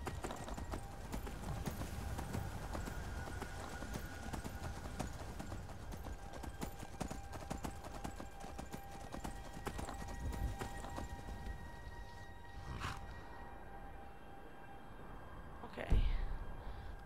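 Horse hooves clip-clop in a steady walking rhythm in Skyrim, continuous and mid-distance over game ambience, with a brief louder knock near the end.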